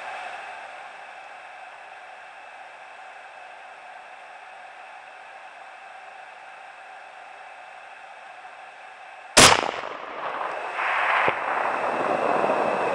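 Rifle gunshot on an Idaho deer hunt: one sharp, loud crack after a long stretch of steady hiss and wind, followed by rustling noise.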